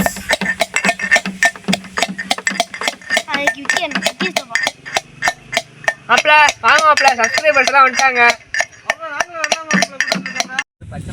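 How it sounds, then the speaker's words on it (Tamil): Rapid, steady knife chops through large onions on a cutting board, a quick rhythmic series of sharp taps close by, with a voice talking over much of it. "இப்போ அடுத்து வந்து வெங்காயம் நறுக்க போகிறோம்"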